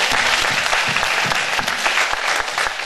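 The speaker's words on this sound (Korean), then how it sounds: "예수께 영광의 박수 한번 드리겠습니다." A congregation at an evening healing revival for pastors and their spouses bursts into thick, continuous applause, with many hands clapping together at a loud, steady level.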